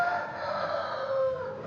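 Chickens at a poultry market in Madappattu, Tamil Nadu, crow and cluck in a steady, fairly close chorus against continuous background market noise, with no talk over them.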